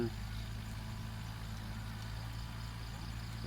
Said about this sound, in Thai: รถไถมันกำลังไถอยู่